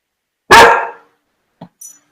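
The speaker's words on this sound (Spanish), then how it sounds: "Perdónenme, que aquí está mi perrito." A little dog lets out a single loud, close bark indoors, followed by a couple of quieter short sounds. No one speaks during it.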